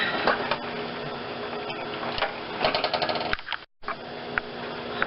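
A sewing machine stitches a collar onto a vest with a steady, close mechanical whir and rapid needle clatter that stops briefly near the end and then resumes.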